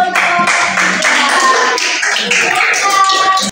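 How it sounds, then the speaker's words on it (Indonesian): Classroom group clapping after a student presentation, a brisk burst of many hands close by, steady for a few seconds before cutting off abruptly. "Tepuk tangan dulu untuk"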